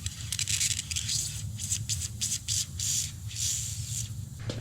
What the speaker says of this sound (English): you can maybe hear it spray